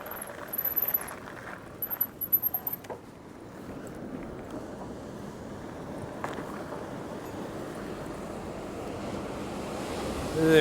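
Coastal surf washing ashore with steady wind buffeting the microphone while an e-bike cruises a seaside bike path, a continuous broad roar with a few faint high chirps early on.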